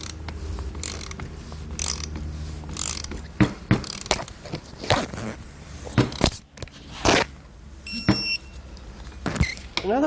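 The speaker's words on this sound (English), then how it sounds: "we can go ahead and come back with our torque wrench here and torque down everything to the value supplied in the instructions" A torque wrench tightens bolts on the lower bracket plate of Air Lift LoadLifter 7500 XL air helper springs on a 2016 Ford F-series truck, giving close, repeated ratcheting clicks in short bursts with metallic knocks between them.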